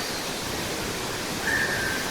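Steady broadband rush of a waterfall flowing outdoors, a constant close, even wash of falling water with no pauses and no voices.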